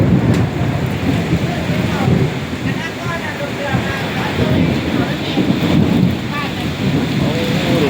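A thunderstorm with heavy rain at a rural home in Nakhon Phanom, Thailand: dense, loud, continuous downpour with rolling thunder rumbling underneath throughout.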